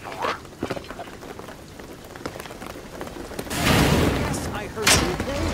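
Heavy rain in the Shadow of the Tomb Raider video game patters on surfaces, a steady hiss that swells louder partway through, with a sharp burst near the end and game voices in the background.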